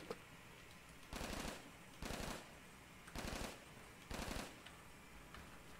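Automatic gunfire in Call of Duty Zombies, four loud bursts of rapid shots about a second apart, separated by short quieter gaps.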